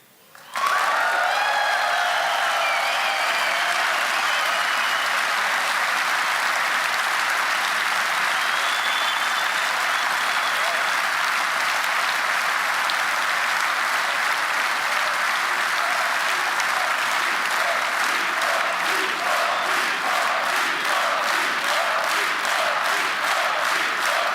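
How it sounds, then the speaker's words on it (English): A large crowd at a political rally in Hungary bursts into loud, sustained applause that rolls on without a break. Later the clapping settles into a rhythmic, pulsing chant-like beat as the crowd calls for an encore. "the crowd is chanting encore"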